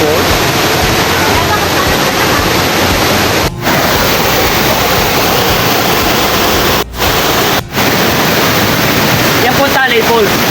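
Talay Falls, a waterfall reached on a trek, roars as a loud, steady broadband rush close by, with only a few momentary dips in the continuous wash of water.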